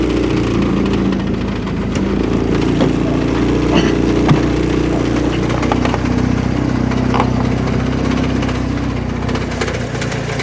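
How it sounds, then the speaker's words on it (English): A 1984 Porsche 944 engine runs at a steady idle, loud and close, with a persistent metallic rattle from the front of the engine over the low drone. "One of the big things is it's rattling bad up front."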